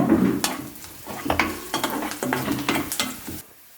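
Momo filling sizzles and fries in a pan as it is stirred, with repeated scraping strokes and bursts of crackle over a constant frying hiss, close and fairly loud, no voices.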